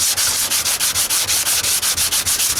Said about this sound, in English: Dura block, which is pretty stiff. Just some 80 grit to